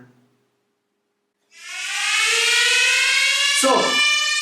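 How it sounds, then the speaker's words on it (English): After a brief silence, a loud simulated electronic audio alarm siren from a Barix system starts and holds steady, its harmonic tone sliding slightly, with a short low thump near the end. "I now simulate an audio alarm."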